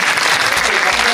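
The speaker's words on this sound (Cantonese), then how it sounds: "大家俾啲掌聲。" A crowd at a Stephen Chow roadshow claps loudly for the actors of Kung Fu Hustle, a brief, dense burst of applause close by with a voice faintly under it.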